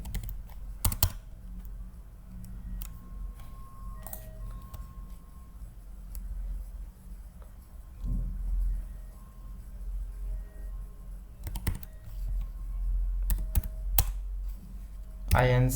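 Keys clatter on a computer keyboard while code is typed in a ServiceNow scripting session, a few short bursts of clicks standing out above a steady low background hum.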